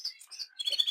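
Cinnamon canaries chirping in a busy aviary, with several quick high tweets and trills overlapping across a brief moment at close range, no voices.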